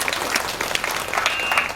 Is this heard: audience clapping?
yes